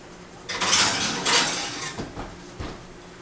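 A metal pan holding a stick of butter rattles and clanks as it is slid into a kitchen oven, with a few louder scraping bursts followed by lighter knocks of cookware.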